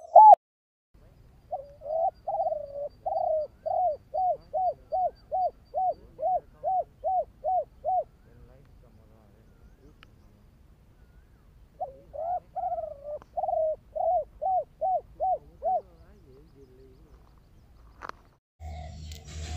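A spotted dove kept as a cage bird cooing in long rhythmic series of soft, evenly spaced coos, about a dozen in the first run, then a pause and a shorter run, clear and close in quiet surroundings.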